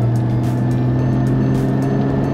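A car engine hums steadily from inside the vehicle, a loud low drone rising only slightly, with no talking.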